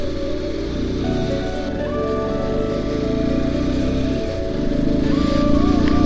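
A motorcycle engine runs steadily on a ride toward Temi tea garden, a near, continuous drone that rises slightly in pitch as it accelerates.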